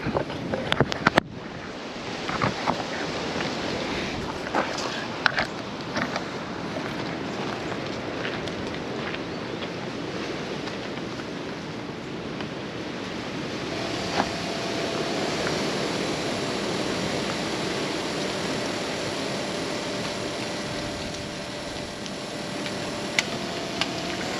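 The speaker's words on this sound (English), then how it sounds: "Really high wind today, making video work challenging." Strong wind blows hard and continuously outdoors, a loud, rushing broadband roar buffeting close by with occasional sharp gusts and knocks, and no voices.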